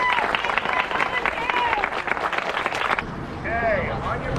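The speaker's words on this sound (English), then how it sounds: "Let's give a big round of applause for all of our volunteers today." Outdoor crowd applause for volunteers before a 5k Parkrun on the Clermont waterfront in Florida, steady clapping throughout with voices and cheers mixed in, quieter after a few seconds.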